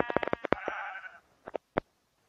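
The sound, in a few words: sheep bleating in a video game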